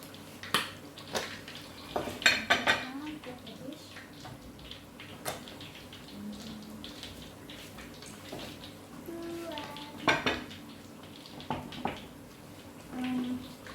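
Dishes and kitchenware handled beside a deep fryer in a home kitchen, scattered clinks and knocks over a low background hiss, with a few louder clatters.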